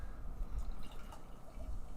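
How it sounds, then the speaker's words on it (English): Peaches and cream sour ale from Weathered Souls Brewing Co. pours from a can into a glass, a soft continuous splashing trickle with low rumble, steady and close, no talking. "So let's pour this thing."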